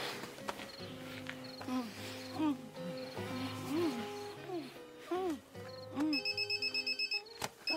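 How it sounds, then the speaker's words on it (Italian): An electronic alarm goes off indoors, a rapid repeating warbling beep that pulses in quick bursts, layered over music and other busy background sound. "Che ho toccato? L'allarme?"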